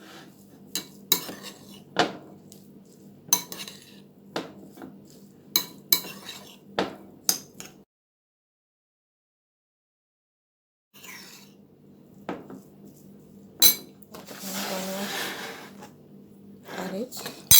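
Tuna salad is mixed in a bowl with black pepper, and a utensil clinks and scrapes against it in sharp, uneven knocks. The mixing stops for a few seconds of silence, then resumes with a louder burst of stirring.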